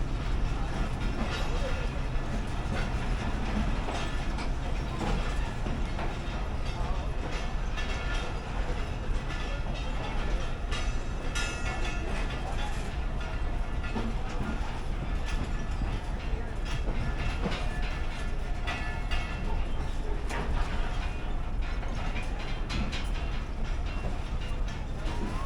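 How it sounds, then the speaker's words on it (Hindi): Passenger train, 9 Up Namakbar Express, departing Lahore, a continuous loud rumble of rolling wagons with rhythmic wheel clatter throughout, with some faint background voices. "9 अप नमकबार एक्सप्रेस लाहौर से रवाना हो रही है"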